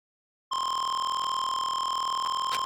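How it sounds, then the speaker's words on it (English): A steady electronic beep tone from the video game Danganronpa: Trigger Happy Havoc starts abruptly after half a second of silence and holds constant and clear to the end. "Stop that goddamn beeping and say something!"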